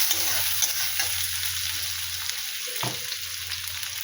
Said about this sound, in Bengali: পেঁয়াজটা ভেজে তারপরে একটু লবণ দিয়ে দিলাম